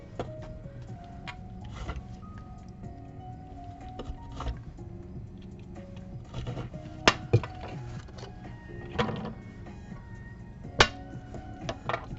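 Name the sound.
clinking of objects while making a junk journal cover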